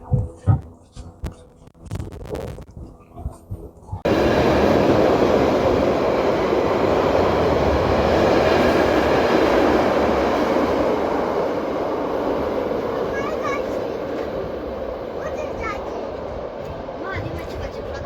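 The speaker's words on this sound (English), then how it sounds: "अब जो ब्लू वाली ट्रेन आएगी हम उसमें बैठेंगे।" A blue train rumbles steadily close by at a station in Switzerland after a few seconds of quieter noises, its broad roar holding and slowly fading a little toward the end.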